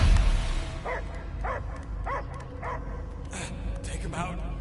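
Dog barking in the Guardians of the Galaxy video game: a string of regular yapping barks, about one per half second, rising over a busy game soundscape with low rumble beneath.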